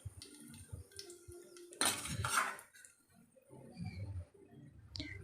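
Ghee-fried raisins and dry fruits for sweet semiya being moved into a small bowl: quiet spoon-and-pan clinks, with a burst of louder scraping and rattling in the middle, fairly close.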